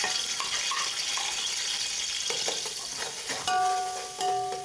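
Garlic frying in a pan of oil and ghee gives a steady, close sizzle with faint stirring scrapes, and a few clinks near the end.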